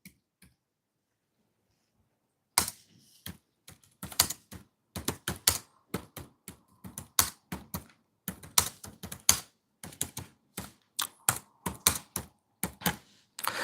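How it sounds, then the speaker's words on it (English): Keys clack on a computer keyboard in uneven bursts of typing, close and fairly crisp, starting after a few seconds of near silence and running on without any talk. "I'm going to type this in."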